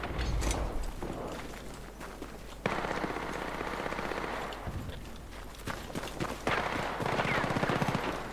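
Weapon gunfire in the video game Battlefield Redsec, with rapid automatic bursts and dense clattering shots that stop and resume over several seconds.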